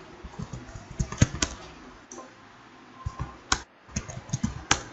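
Someone types on a computer keyboard while entering Urdu text in InPage. Nearby key taps come in irregular bursts with short pauses between them.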